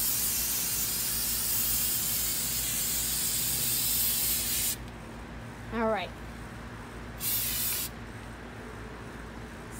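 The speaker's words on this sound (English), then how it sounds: "I only spray left to right, right to left" Spray paint hisses onto a coir doormat through a freezer-paper stencil in a long, steady blast, then two short bursts follow after a pause, with a brief spoken remark between them.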